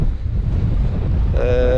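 Strong gusting wind of around 20 to 25 knots buffets the microphone aboard a sailboat, a steady low roar with water noise, and a voice comes in near the end.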